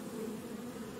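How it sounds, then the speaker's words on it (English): Steady, close buzzing of bees in the horror video game Pacify, a continuous low drone with no voices. "Bees?"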